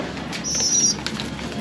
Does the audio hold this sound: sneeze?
no